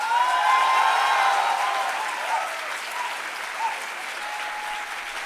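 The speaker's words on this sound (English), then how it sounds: "Parents can now clap to celebrate the success of their wards." Parents in a convocation hall at IISER Bhopal applaud their graduating wards, a steady, even wash of clapping that eases slightly toward the end, with faint tones lingering underneath.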